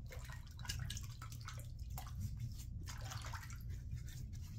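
Water splashes and drips softly and close by as a face is wetted for shaving, with brief scattered splashes over a quiet running-water wash.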